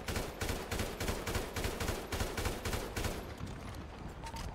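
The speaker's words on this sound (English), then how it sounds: "I hear shots." Gunfire in a GTA roleplay video game: rapid, repeated shots in dense, fusillade-like bursts that stay loud for about three seconds and then thin out into scattered, quieter pops.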